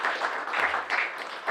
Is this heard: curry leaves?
no